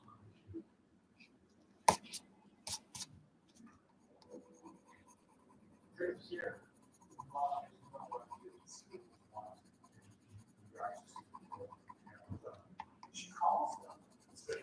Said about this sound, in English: Maybe I should test the new pencils out on this instead.